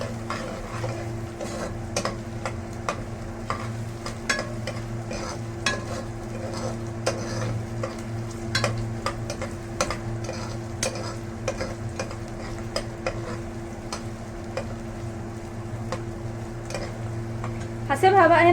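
Onion fries in a pan until golden. A steady sizzle plays under a constant low hum, with frequent light scrapes and taps of a spoon stirring. A clatter comes right at the end.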